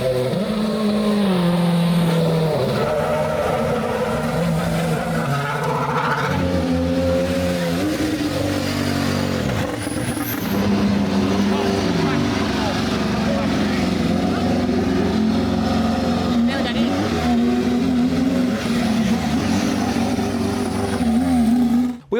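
Race cars, including a McLaren drift car, pull away from the paddock at the Goodwood Festival of Speed, loud rumbling engines revving and shifting pitch continuously up close, with crowd noise and talk mixed in.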